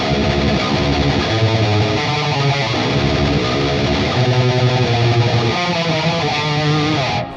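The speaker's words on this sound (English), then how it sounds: "melodic death metal or death metal, the real fast alternate picking with a little bit of that growl" A 7-string electric guitar plays a fast alternate-picked death metal riff, dense and heavily distorted throughout, a continuous loud rapid chug of notes played alone with no talking.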